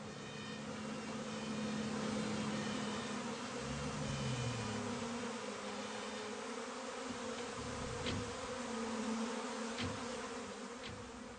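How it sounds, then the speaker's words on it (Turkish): Steady, dense buzzing of many bees droning together, continuous and fairly close, with a few brief higher whines from individual insects passing by. "Şaşkın arılar yardıma ihtiyaç duyuyor"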